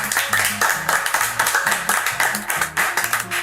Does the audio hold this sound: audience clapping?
yes